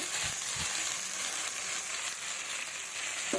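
Duck egg and okra go into a hot pan of browned spices, a couple of soft thumps followed by a steady, faint sizzle of frying.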